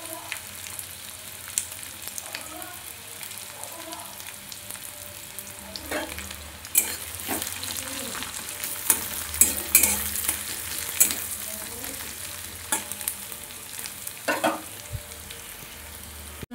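Crushed onion and whole cumin fry in mustard oil in a kadai, a soft continuous sizzle broken by sharp scraping clicks of a spatula stirring, with no voices.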